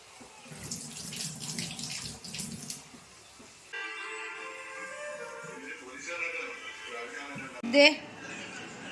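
Running tap water splashes steadily while soaked clams are washed at a sink, with someone talking over the flow and a brief clatter near the end.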